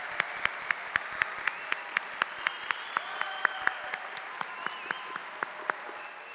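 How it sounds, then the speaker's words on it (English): Faint, steady clapping from a commencement audience celebrating Oakville High School's class of 2020, heard as evenly spaced, sharp claps over a soft hum with no crowd roar. "let's demonstrate the depth of our love, our support, and just how proud we are of this graduating class of 2020 by a round of applause"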